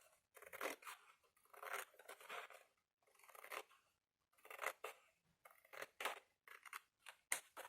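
Scissors cutting paper at a cluttered desk during a scrapbooking project, a series of crisp snipping bursts in uneven rhythm with short pauses between cuts, quiet and close, with no talking.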